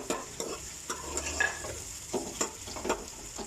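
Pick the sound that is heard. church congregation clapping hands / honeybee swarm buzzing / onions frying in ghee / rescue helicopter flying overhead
onions frying in ghee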